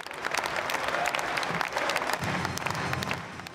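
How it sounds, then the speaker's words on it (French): A congress audience of CGT trade unionists applauds Bernard Thibault with dense, sustained clapping that carries evenly throughout, without a break and with faint crowd murmur beneath. "Applaudissements pendant de longues minutes."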